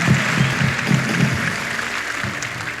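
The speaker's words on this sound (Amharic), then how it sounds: "ኧረ በደንብ አጨብጭቡ እባካቸው።" A church congregation claps for the Lord in steady rhythmic bursts, a dense close wall of hands.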